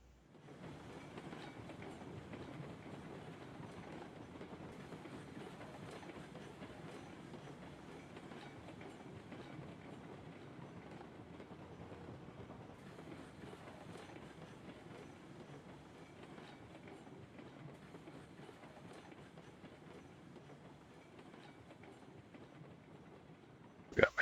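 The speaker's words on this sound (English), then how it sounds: "Gotta love the 24 car train shunts." A 24-car train rolls steadily in the Railroads Online game, a faint continuous rumble with rhythmic wheel clatter throughout, distant and low, ending in a sudden louder bump.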